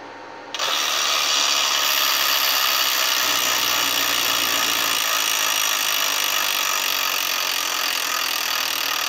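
The wheel of a Wheel of Fortune Deluxe electronic tabletop game is spun, starting abruptly with a loud, steady whirring rush that holds evenly for several seconds, with no talk over it.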